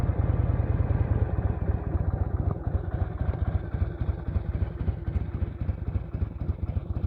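A 1982 Harley-Davidson FLH motorcycle engine just after starting runs at a steady, loud, close idle with a lumpy low throb and mechanical clatter, settling slightly after the first couple of seconds.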